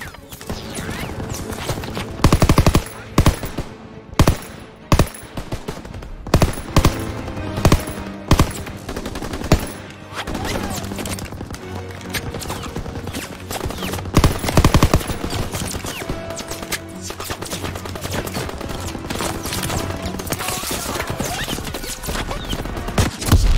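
Machine gun fire in the Call of Duty WWII video game chatters loudly and almost continuously through a beach battle, with sharp staccato bursts, distant shelling and scattered other shots layered over a dense, noisy combat background.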